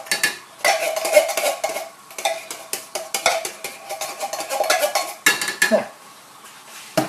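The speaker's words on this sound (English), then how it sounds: "I'm just going to stir that around." A spoon scrapes and clinks around a pot of Thai green curry with coconut milk and curry paste, producing repeated irregular stirring knocks at close range, with a brief spoken word.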